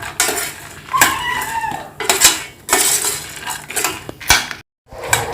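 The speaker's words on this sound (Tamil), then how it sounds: "சிம்மில் வச்சு லைட்டாக வதங்கினா போதும்." Peanuts being sautéed in a pan on low heat, repeated loud scraping and clattering strokes of a metal spoon against the pan in an uneven rhythm, close up, with a brief silent gap near the end.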